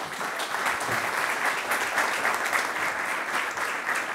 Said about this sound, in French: Camille Madinier, si vous vouliez bien l'applaudir.